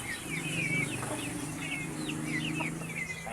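Chicks in a backyard pen give repeated high peeping calls over a low steady murmur of clucking from larger hens, moderately close and continuous.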